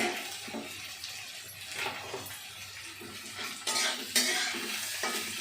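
Onion frying in oil in a home kitchen while breakfast poha is prepared, with a spoon repeatedly scraping and stirring through the pan over a soft, continuous sizzle; the stirring grows louder and busier near the end, with no talking.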